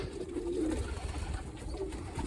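Young pigeon squabs cooing softly and continuously at close range, a low steady murmur with a brief brighter call near the end, no talking.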